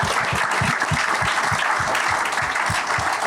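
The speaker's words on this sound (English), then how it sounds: "a round of applause for all the people that make this happen" Audience applause at a Phillies ballpark event marking Mental Health Awareness Month: a steady, dense wash of many hands clapping that holds level for the whole stretch, with no voices over it.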